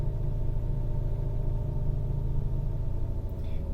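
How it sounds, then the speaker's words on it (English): A 1993 Lincoln Town Car V8 idles steadily with a low, even rumble and a faint pulsing throb, close and continuous throughout, with no voices. "I just wait until the idle comes down and count the flashes"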